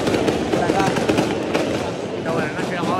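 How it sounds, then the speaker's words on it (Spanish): Rapid crackling bursts of fireworks popping continuously at a football match, loud and close, with voices talking underneath. "Están tirando fuegos artificiales."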